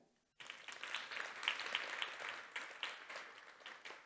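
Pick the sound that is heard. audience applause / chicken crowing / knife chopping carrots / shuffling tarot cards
audience applause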